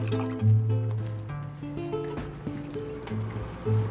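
A sorbet mixture of sugar dissolved in liquid is poured into a metal baking pan, giving a steady close trickle and splash with ringing metallic tones from the pan.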